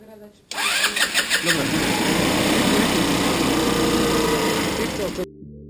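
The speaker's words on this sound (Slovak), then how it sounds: "Riskantná operácia sa podarila, skúter štartuje na brnk." A scooter engine with a freshly cleaned and reassembled starter cranks a few times, catches and runs at a steady high-pitched idle, loud and close, before cutting off abruptly.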